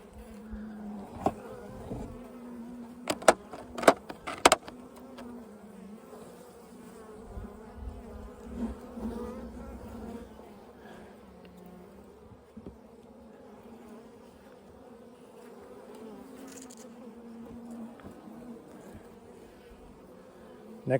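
A honeybee colony drones with a steady, close buzz while a hive is opened for a queen and colony check about ten days after release, with a few sharp knocks and clatters of frames early on.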